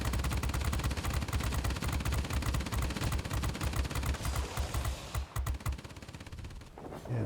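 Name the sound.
turret gunfire in a video game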